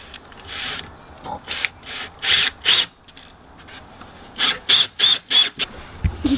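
Screws are driven into wooden decking boards while a patio is built, heard as repeated grinding, ratcheting bursts from a screwdriver in two clusters, loud and close, separated by brief pauses.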